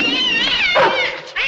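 A cat lets out a loud, drawn-out, wavering yowl, a single sustained caterwauling meow heard close up, with no talk in the moment.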